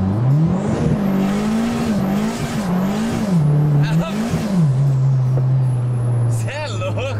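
A Volkswagen Saveiro pickup spinning its tires in third gear, with a loud engine drone rising and falling in rhythmic surges before settling into a steady tone, and voices underneath toward the end.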